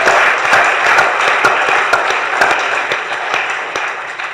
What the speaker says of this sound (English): So let's give them a round of applause for their vision.